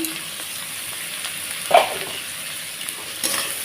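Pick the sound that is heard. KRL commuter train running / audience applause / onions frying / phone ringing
onions frying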